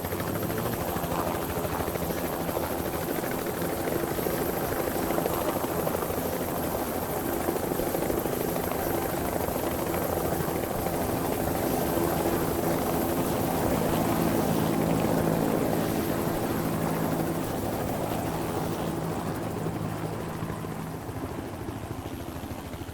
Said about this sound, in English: Sometimes those meta events just last too long, especially the helicopters, and they're really loud on the recording